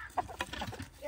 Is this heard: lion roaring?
no